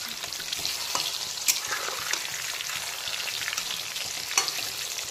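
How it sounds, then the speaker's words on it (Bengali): Katla fish fries in a pan of hot oil, giving a steady close crackling sizzle with a few sharper pops and no one talking. "এখন কিন্তু মাছের একটা দিক ভালো মতো ভাজা হয়ে গেছে, তো আমি মাছগুলোকে একটু সাবধানে উল্টো করে দিচ্ছি।"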